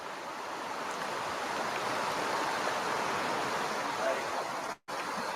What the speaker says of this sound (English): the sound of the river flowing is so beautiful